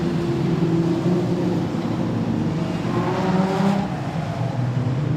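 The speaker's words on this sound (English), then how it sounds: "And now he drives away." Production sedan race car at Wahgunyah Speedway pulling away under yellow lights, a steady engine drone mixed with other distant cars, continuous and moderately loud.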